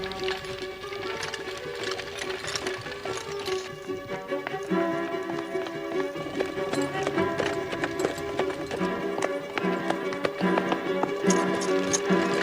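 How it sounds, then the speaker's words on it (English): A galloping horse's hooves clip-clop in a rapid, steady rhythm throughout, fairly close, over a sustained tonal background. "Stop that horse."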